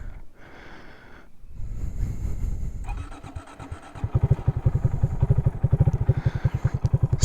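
A fuel-injected Honda Grom 125 motorcycle cranks and fires up, then settles into a steady, close, rhythmic idle with a throbbing putter and no talking.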